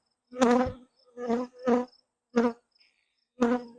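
Honeybees buzzing close by while a full hive is opened for a colony inspection, in several short, loud bursts of droning hum separated by brief silences.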